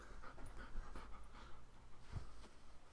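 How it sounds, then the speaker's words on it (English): A dog pants steadily and close by, quick rhythmic breaths over a faint hum of room noise, with no voices over it. "Dog slobber everywhere."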